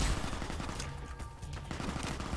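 Gunfire in the video game Fallout New Vegas, a dense burst of several shots close together, loud and steady with no talking over it.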